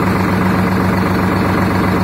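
A tractor engine runs steadily at a dealer's tractor market in Shamli, a loud continuous low mechanical drone with a constant hum and no pauses.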